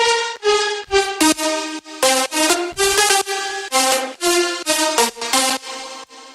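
Bright layered synth lead from an Ableton Live remake of an EDM track, playing a loud rhythmic melody of short stabbed and sustained notes, alone and upfront.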